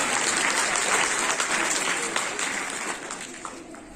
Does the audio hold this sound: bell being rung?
no